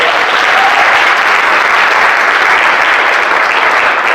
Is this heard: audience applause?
yes